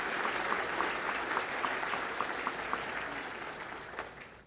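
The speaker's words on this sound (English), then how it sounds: "Let's have a round of applause for all of you who have been here so many of those years" Guests at a formal fundraising dinner give a round of applause, a thick wash of many hands clapping at a fairly distant, soft level before it thins and fades out at the close.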